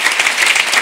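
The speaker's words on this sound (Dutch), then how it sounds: "Hartelijk applaus voor deze twee." An audience claps warmly after a talk, a brief dense burst of applause.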